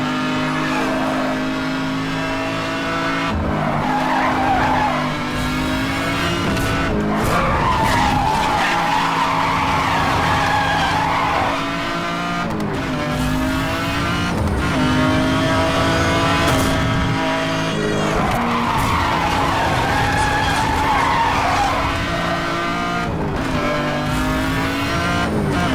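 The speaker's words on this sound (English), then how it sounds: "There are too many corners in which you have to do brake to drift." Car drifting through long brake-to-drift corners in Need for Speed Hot Pursuit Remastered on PS5, with sustained tire squeal over a steady revving engine, loud and continuous, rising and falling with each corner.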